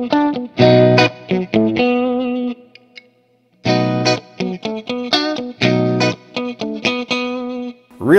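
A Schecter Ultra III electric guitar is played through an amplifier on its single coil pickups, bright chords and notes ringing out in short phrases with brief pauses between them, clear and close with no speech.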